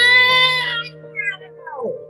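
A human voice mimics a screeching, metallic, mechanical cat cry, a drawn-out wavering wail that breaks into a sliding, falling squeal at the end, close and alone.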